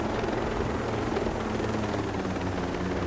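A helicopter in the video game Ghost Recon Breakpoint gives off a constant, close rotor and engine roar that runs steadily and evenly through the whole clip.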